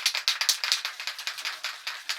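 A can of white spray paint is shaken hard for spray paint art, and the ball inside rattles in quick, regular, close clacks through the whole stretch.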